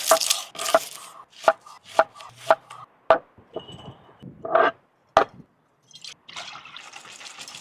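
Knife chopping red onions on a cutting board for pickling, a series of sharp, close, distinct chops in an uneven rhythm, separated by quiet gaps, ending with a softer rustle.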